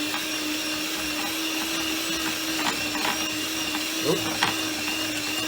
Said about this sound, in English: Now we need to beat it with an electric whisk for 4 minutes until light and fluffy.